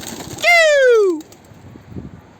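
A single drawn-out pigeon coo, close and clear, rising then sliding down for under a second, followed by quiet background rustle.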